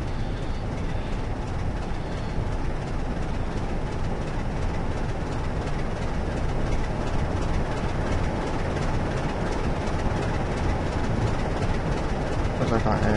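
A train runs along the Great Western Mainline in the game Train Simulator 2013, a steady loud rumble of wheels and engine rolling on without pause.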